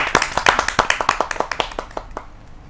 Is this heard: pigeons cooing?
no